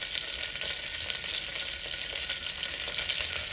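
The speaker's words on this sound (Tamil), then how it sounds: "கறிவேப்பிலை நான் ஒரு 3 இனுக்கு போடுறேன்." Curry leaves frying in hot oil in a pan while making chickpea kurma, a loud, dense, continuous sizzle with steady crackling.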